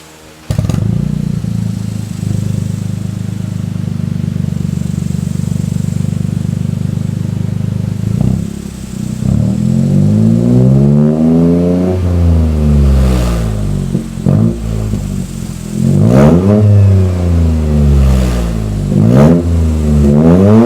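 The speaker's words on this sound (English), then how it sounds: "The exhaust is done. You hear how it sounds." A Toyota GR Corolla with a Megan Racing exhaust idles with a rough rumble, then revs up and down repeatedly, loud and close, with rising and falling pitch.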